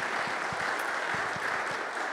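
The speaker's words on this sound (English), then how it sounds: "So if you would give them a round of applause for really the help that they provided us." Audience clapping for an event team at an esports forum, a steady wash of applause from a crowd in a hall with a few nearer, louder claps standing out.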